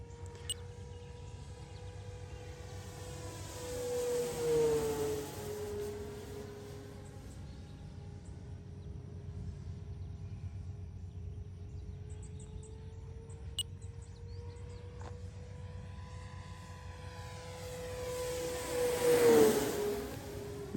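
An electric motor on a 6S fixed-wing RC aircraft at full throttle, heard as a steady whine that holds throughout with two sweeping passes, loudest near five and nineteen seconds as the plane flies by, with no talk.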